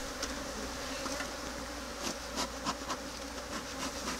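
Honeybees buzz around an opened hive during requeening, giving a close, continuous droning hum with individual bees zipping past the microphone in brief louder swells.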